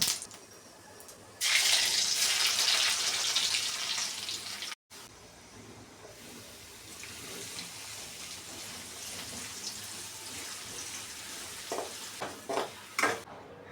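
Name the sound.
vegetables frying, tempering sizzling in pan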